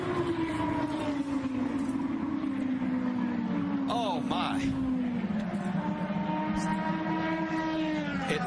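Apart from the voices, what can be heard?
IndyCar race cars in a multi-car crash at Las Vegas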